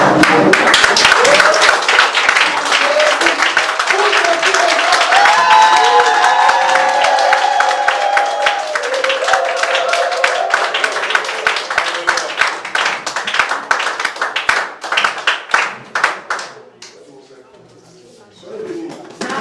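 A church congregation clapping and cheering to acclaim the Lord, sustained rhythmic applause mixed with raised voices and calls that thins out into scattered claps near the end.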